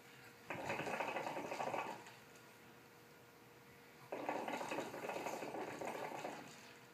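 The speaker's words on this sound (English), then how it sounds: "And you gotta just blow on and get it started a little bit." Blowing through a hookah sets the water in its base bubbling in two bursts of about a second and a half each, with a quiet pause between them. The gurgling is soft and close.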